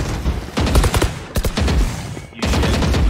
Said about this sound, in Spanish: ya hay bastantes tiros